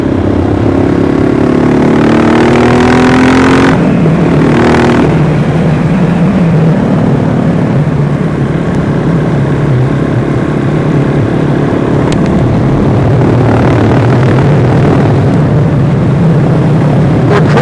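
KTM 690 SMC single-cylinder motorcycle ridden at highway speed, a loud continuous engine drone under heavy wind roar with a brief rising rev early on, recorded close from the rider's position.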